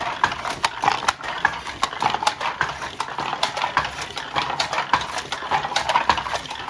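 A century-old weaving loom in Ajijic, Mexico clatters steadily as its bobbin shuttles back and forth, producing a dense, rhythmic run of close, loud wooden clacks and knocks with a faint mechanical hum beneath.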